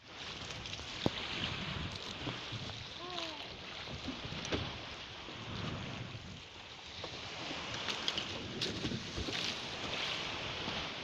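Steady rushing wash of a small boat moving across water near Baclayon Island, Bohol, Philippines, with wind buffeting the microphone and faint scattered knocks.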